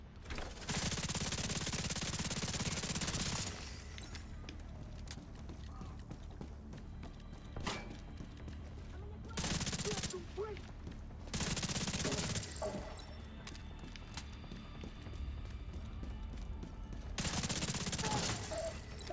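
An automated turret deployed in The Division 2 fires in sustained, loud bursts of rapid gunfire, separated by quieter gaps of background battle noise.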